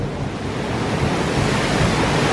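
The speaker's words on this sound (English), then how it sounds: "the eponymous splash right there at the end" A theme park ride boat hits the water at the end of the ride, sending up a big splash that carries through as a loud, steady roar of rushing water and spray, close and continuous, with no voices.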